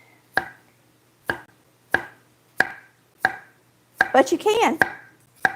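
A knife chops a Vidalia onion into large pieces on a cutting board, six or seven crisp, evenly spaced strikes, close and loud, with a short spoken phrase partway through.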